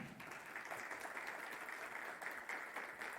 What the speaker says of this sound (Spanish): Un gran aplauso, por favor.